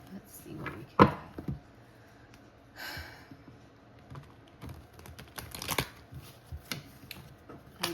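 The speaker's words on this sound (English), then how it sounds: "to shuffle it over here because my camera setup is weird" Tarot cards being shuffled by hand in bursts of soft riffling and slapping clicks, close and fairly quiet, with pauses between shuffles and someone speaking over parts of it.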